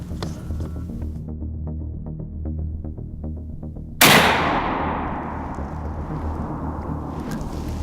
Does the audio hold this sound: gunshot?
yes